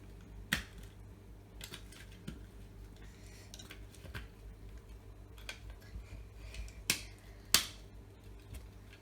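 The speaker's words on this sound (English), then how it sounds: "Okay, now in come your batteries." Batteries are pressed into an Estes rocket launch controller from an Estes Alpha III kit, giving a handful of faint, sharp plastic clicks and snaps up close in a quiet room.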